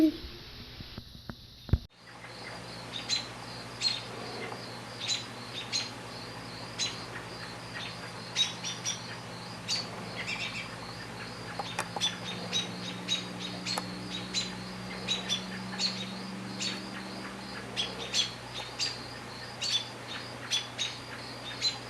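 Upset birds squawk and chirp in repeated sharp calls over a low background hum, near and fairly loud, spaced irregularly throughout.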